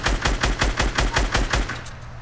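Rapid automatic gunfire in a battle-royale video game: a loud, evenly spaced burst of about a dozen shots lasting under two seconds, then a brief fading tail.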